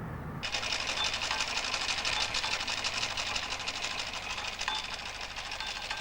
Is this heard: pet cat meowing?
no